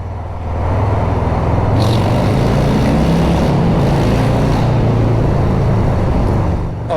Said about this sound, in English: let's just drop back a bit so you can hear the exhaust in the tunnel.